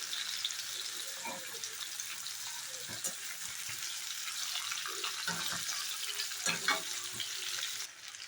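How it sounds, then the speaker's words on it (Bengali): Pieces of raw green plantain frying in hot oil, a soft continuous sizzle with occasional stirring knocks and scrapes, fairly quiet and close, with no talk. "এখন আমি কাঁচকলাগুলি দিয়ে দেব এখানে কিছু দেব না এমনিতে কাঁচকলা দিয়েছে বেশি করে ভেজে নেব"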